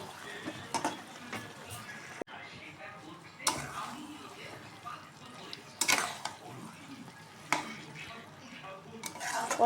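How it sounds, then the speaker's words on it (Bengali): A curry is stirred and sautéed in a pan with chili powder, giving a soft sizzle with scraping spoon strokes and occasional clinks against the pan, close by, while a person talks at times. "এই যে লঙ্কার গুঁড়োটা দিয়ে দিলাম, এবার কষবো ভালো করে।"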